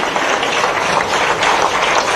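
Loud, dense applause from a ceremony audience honouring a female cricketer, steady and unbroken with no voices on top.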